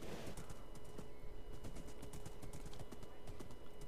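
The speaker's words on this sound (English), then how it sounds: "just riding your horse and trying not to die" Horse hooves clip-clopping in Minecraft as the player rides, a rapid steady patter of hoofbeats close up, with no talk over it.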